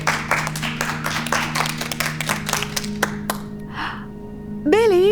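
Classroom applause rings out as a group claps quickly for several seconds, then thins into a few scattered claps and fades, with a voice starting to speak at the end.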